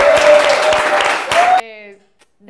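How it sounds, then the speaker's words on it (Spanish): Studio audience applause on a television talk show, a loud dense burst of clapping with tonal studio sound over it that cuts off abruptly, followed by near silence. "Un fuerte aplauso"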